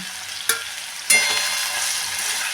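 Guava pieces sautéing in a pan for a traditional sweet-sour-spicy guava curry, a steady close sizzle with two sharp clinks of a spoon stirring against the pan.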